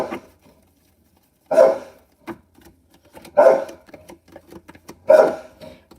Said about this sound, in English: Who's he barking at?